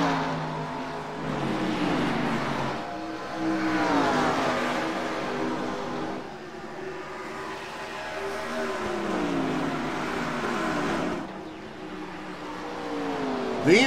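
Stock race cars roar around Dover speedway, engines rising and falling in pitch as the pack sweeps past in loud, close waves, with no voices over the noise.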